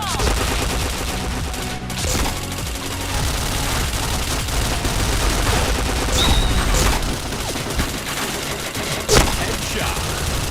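Dense gunfire in a shooting video game, rapid automatic bursts and single shots layered over a continuous roar of battle, loud and close, with a speech-like voice briefly in the mix.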